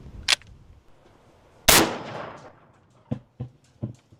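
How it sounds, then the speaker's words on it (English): A 450 Bushmaster rifle fired at a dumbbell target outdoors: one loud, sharp gunshot with a decaying tail, preceded by a smaller click and followed by several lighter clanks and knocks. "Moving up to the 450 Bushmaster."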